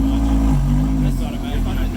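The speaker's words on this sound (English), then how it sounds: "Guy's trying to get his Lamborghini in." A Lamborghini engine at a cars and coffee meet, idling low and steady close by while being eased into a parking spot, with people talking over it.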